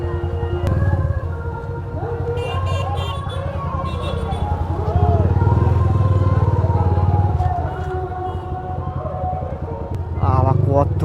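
Motorcycle engines rumble and rev around a crowded temple site during the Dol festival, with a steady murmur of the crowd and people talking throughout; a louder engine rev rises near the end.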